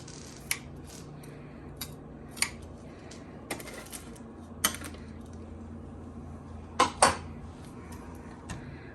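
A knife scrapes and clinks against a jar of minced garlic, giving sparse sharp metallic taps and a short cluster of louder scrapes over a low kitchen hum.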